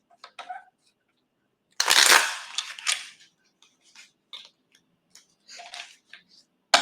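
Tarot cards being shuffled in a riffle-like burst, a loud rustling flurry followed by a few quieter card slaps and shuffles, close up with no talk.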